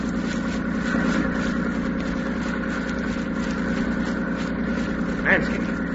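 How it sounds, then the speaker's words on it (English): A landing barge's engine approaches by sea and drones steadily at a low pitch, with a constant mid-level rumble running through the whole stretch and voices talking faintly over it. "Yeah, I hear the boat."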